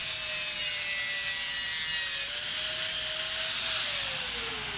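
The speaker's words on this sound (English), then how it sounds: "So now I'm just going to run our cutoff wheel through there, cutting off that little bit" Cutoff wheel slicing through metal while building a 1930 Ford Model A; a loud, continuous high-pitched grinding screech, close and steady, with the pitch dropping slightly toward the end.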